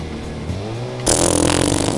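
An off-road vehicle in the racing game Fuel strains uphill, its engine humming low and rising before bursting into a loud, rough, sustained roar of revving that dominates to the end.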